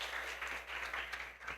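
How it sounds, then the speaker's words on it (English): Audience applause after a talk, a brief, continuous wash of many hands clapping at steady volume with no voices standing out. "A big applause for her."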